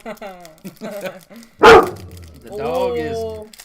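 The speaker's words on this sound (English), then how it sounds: "dog is not happy at the moment. He sees a couple cats outside." Indoors, a dog reacting to a couple of cats outside lets out one sharp, loud, close bark midway through, set between stretches of people talking.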